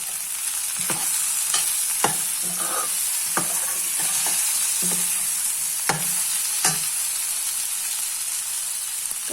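Sesame seeds fry in a pan for raw tomato chutney, giving a steady close sizzle broken by regular scraping taps as they are stirred, with no talking.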